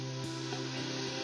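Beer poured into a hot pot over sautéed onion, carrot and garlic while braising a pork shoulder roast, giving a steady, close, continuous sizzle and hiss with no talking.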